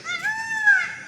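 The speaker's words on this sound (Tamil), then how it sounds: "வயலில் மயில் நிற்கிது நிறையா" A peacock near a farm field gives one loud, honking, nasal call lasting about a second, close by and clear against a quiet background.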